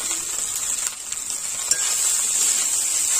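Mixed vegetables and peas fry in a wok for fried rice, a steady hissing sizzle up close with a few stirring scrapes, and no voices.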